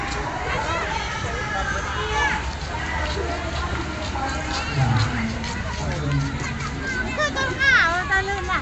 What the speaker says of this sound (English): But over here, yeah, you can tell, look at the crowds.